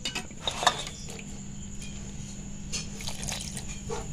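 Warm water trickles from a vessel into semolina dough being mixed by hand for modak, a soft running pour with small splashes and faint handling noises, fairly quiet and alone.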